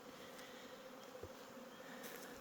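Honey bees robbing wet honey from a hive box make a faint, steady buzzing hum, a swarm-like drone with occasional nearer passes, no voices.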